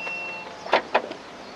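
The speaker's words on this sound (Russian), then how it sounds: "Есть, конечно же, автоматическое открывание двери." The automatic tailgate of a Li One electric car opens with a soft electric motor whir, then a few sharp mechanical clicks and clunks close up, with no speech.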